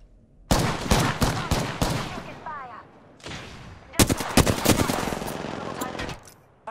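Automatic weapon fire from the Apex Legends battle royale game, loud close bursts of rapid shots in two clusters separated by a short lull, with a voice speaking between them.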